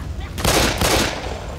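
Gunfire in Left 4 Dead 2 lands as two loud, close bursts of shots in quick succession, dense and cracking, over a quieter game background.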